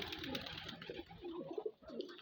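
Pigeons coo in a loft, soft low repeated rolling calls close by, several overlapping phrases with faint rustling behind them.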